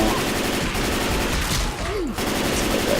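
Rapid M16 gunfire rattles on continuously in the Left 4 Dead 2 video game, dense and loud, with other game noise mixed in.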